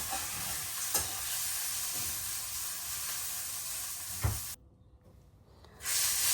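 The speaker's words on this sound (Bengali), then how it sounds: "এখন এই যে কই মাছটা ভাজা নিতে আসছি, সুন্দর করে বেশি করে কড়া ভাজা দিব" Koi fish frying in a pan of hot oil, a steady close loud sizzle and hiss with a sharp crackle near the end, then a brief drop to quiet before the sizzle resumes.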